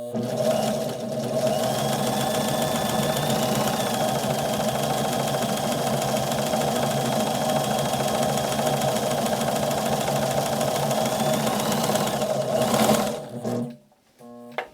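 A sewing machine stitches an automotive upholstery seam in a steady, continuous mechanical whir and rapid clatter that runs for several seconds, then stops abruptly, with a few faint clicks after.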